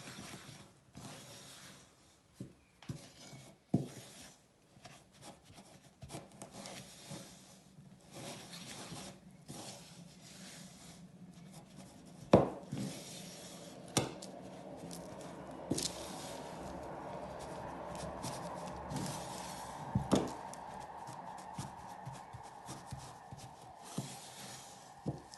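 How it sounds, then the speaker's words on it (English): A wooden spoon stirs cookie dough in a bowl, giving irregular scraping knocks and thuds, then a steadier, denser mixing rumble as the dough comes together. "now all we need to do is just to give this a big stir with our wooden spoon"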